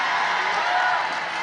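An audience at an Islamic religious sermon claps in a dense, continuous burst that fills the room at close range.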